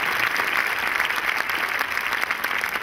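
Loud, dense applause from a crowd at a Laughing Club gathering in Ahmedabad, a steady unbroken wash of clapping that holds at full strength from start to finish.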